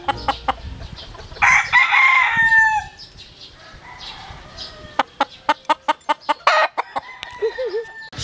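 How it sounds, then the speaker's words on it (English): Roosters crow loudly and close at sunrise, with a long drawn-out call followed by a rapid series of sharp clucks and further crowing. "Check out those roosters."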